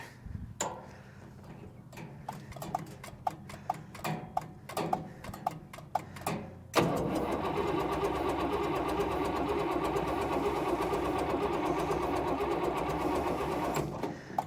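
A classic truck engine cranks on a weak battery and fails to start. Slow, uneven clicking and ticking comes first, then a loud, continuous labored cranking drone holds for the second half.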